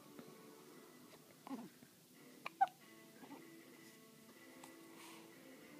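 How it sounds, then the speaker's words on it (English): A person with a bad case of the hiccups gives a few short, sharp hiccups spaced a second or so apart, close and fairly quiet over a faint room hum. "I have a wicked case of the hiccups"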